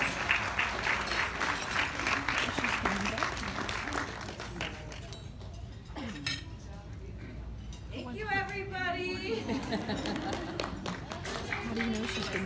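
A crowd at a doll show awards banquet claps steadily for a few seconds, then the applause fades out as people talk and a voice speaks over the room.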